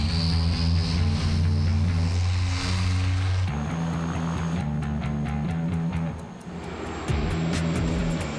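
A jet aircraft in flight holds a constant, heavy engine drone with a low hum, shifting in tone partway through as the flight continues.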